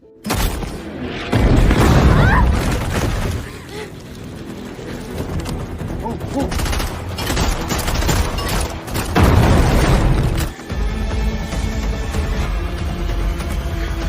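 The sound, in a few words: fierce gunfight in a film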